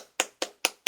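Four crisp, evenly spaced hand claps, close and isolated with silence between them.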